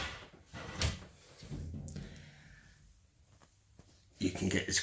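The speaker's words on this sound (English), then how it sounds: "if I open up the actual door," The door of a display backdrop case opens with a short scrape and clunk. A few softer knocks and rustles follow, and a voice talks around them.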